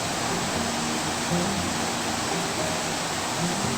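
Water from a hidden waterfall stream near Umrad, Peth, rushes in a steady, broadband wash with no pauses, moderately loud and close, with no voices over it.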